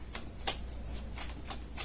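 Tarot cards are shuffled by hand in quick, soft riffling bursts that repeat roughly every quarter second. The sound is close and papery, with no voice over it.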